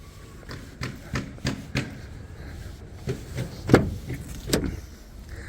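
Car power windows working up close, with a run of short mechanical clicks and thumps, a louder knock near the end.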